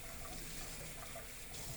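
Water runs steadily from a faucet into a sink while something is rinsed off during cleanup, a soft continuous stream heard briefly and faintly.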